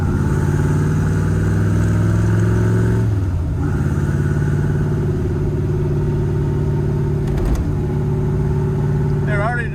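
A barn-find 1965 Corvette engine runs steadily on a test drive, a loud continuous mid-pitched rumble with a brief dip and surge of revs partway through, heard from inside the car under quiet talk.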